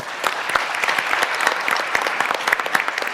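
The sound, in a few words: audience applause closing a conference discussion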